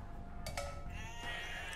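Sheep bleating in the video game Age of Empires 2, a short wavering bleat heard close and fairly quiet over a steady background of game ambience, no talk.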